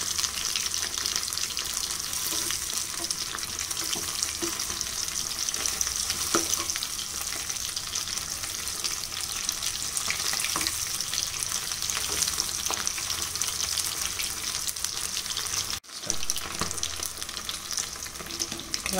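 Semolina-coated sardines sizzle steadily in a frying pan, a dense, even crackle that stays close and constant, with a brief clatter near the end.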